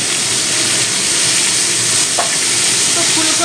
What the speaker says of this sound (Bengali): ওই কড়ার মধ্যে যে তেল আছে, ওই তেলের মধ্যে আমি ফুলকপিগুলো ভেজে নেব।